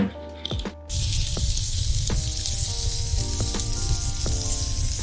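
Seasoned pork ribs laid on a hot grill burst into a loud, steady sizzle after a quiet start with faint handling, with occasional light taps and clicks over the continuous hiss.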